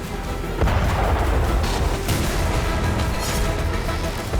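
Loud, heavy blasts rumble out of a constant roar of noise, with a couple of sharper booming hits standing out, from a Ukrainian explosive vessel strike on the Russian frigate Makarov.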